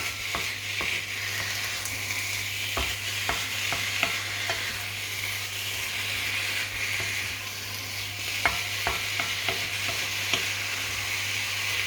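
Meat fries in a pan for banquet rice, with a constant sizzle under repeated scraping and clacking as it is stirred and turned over, close and alone.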